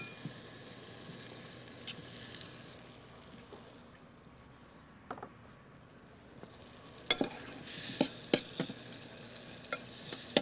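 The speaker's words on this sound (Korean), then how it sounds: "이렇게 살짝 토마토도 좀 볶인다는 느낌" Cherry tomatoes stir-fry in a pan with a soft, steady sizzle, and sharp utensil taps and scrapes come in more often toward the end. The sound is quiet and close, with no talking.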